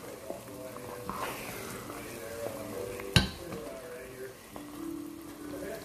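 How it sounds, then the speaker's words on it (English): Sticky rice cooked with canned coconut cream being stirred in a pot for Filipino biko, soft scraping and sticky squelches with a low simmer, one sharp clank of the spoon against the pot, under a voice talking. "you're just gonna keep stirring until all the liquid reduces and it's easy to form a shape"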